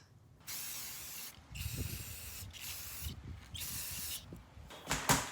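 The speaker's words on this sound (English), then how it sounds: "I'm gonna lay it out and then spritz it with the gold paint" Gold spray paint hisses from an aerosol can onto ribbon bows in repeated spritzes of about one second each, separated by short pauses, with light rustling and handling noises under the spray.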